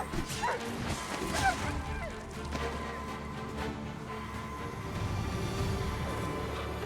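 A dog barks in the video game Dragon's Dogma: a few short yips and barks early on, fairly faint, mixed with clattering combat noise and murmured voices.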